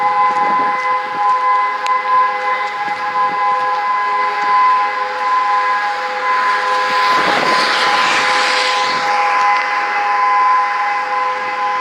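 A Hörmann ECN dual-tone siren at the Grangemouth refinery sounds during a semi-annual test, two steady pitches holding loud and continuous throughout, with a broad swell of wind noise rising midway.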